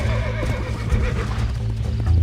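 A horse in the Red Dead Redemption video game gives a loud, close neigh, with hoof clip-clops and game ambience around it.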